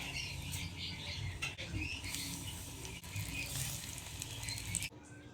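Breaded tofu, coated in a seasoned mixture, sizzles in hot cooking oil in a pan, a steady crackling hiss with small pops throughout, soft and close, with no one talking.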